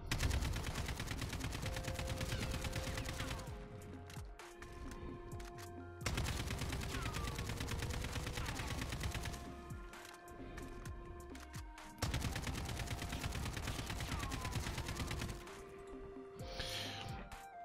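Rapid bursts of rifle fire in Call of Duty: Warzone, repeating in three long sustained volleys separated by brief pauses, loud and mechanical.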